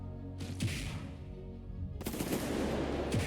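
Rapid bursts of pistol-style gunfire from an upgraded tower in the Roblox tower-defense game Skibi Defense, two dense clusters of shots separated by a brief lull, steady and fairly loud with no talking.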